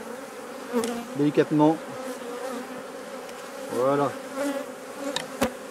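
Many honey bees buzz densely around an opened hive as a dry frame is set in, a continuous close swarm drone under a few soft, gentle spoken words.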